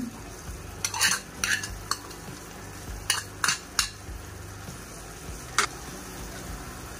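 A spoon scrapes and clinks against a pan as fried dry fruits are stirred into carrot halwa, with a scattering of sharp metallic taps over a faint sizzle, close and otherwise quiet.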